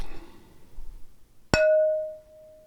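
After faint background shuffling, a plate is struck once and rings with a clear, sustained tone that slowly decays.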